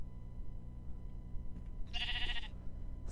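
A single bleat from a sheep in Minecraft, lasting about half a second and heard over a steady low in-game background rumble, with no talking.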